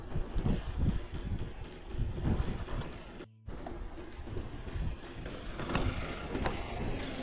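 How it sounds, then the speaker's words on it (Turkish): Strong wind buffets the microphone during a bike ride near Vize, a low, rumbling roar in gusts, briefly cutting out before the blustery noise resumes. "Rüzgar çok kuvvetli."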